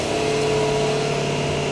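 A BMW engine runs at steady raised revs while the car sits on a lift during a DCT gearbox oil level balancing service, giving a constant, even drone with a fixed tone throughout and no talking.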